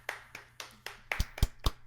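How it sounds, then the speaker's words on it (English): A small group claps in a short round of applause during a theme park fan show, with about eight separate, fairly sparse claps that grow louder toward the end. "Got a round of applause, everybody!"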